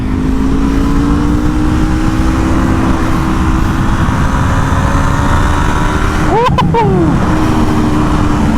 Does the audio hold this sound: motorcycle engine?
yes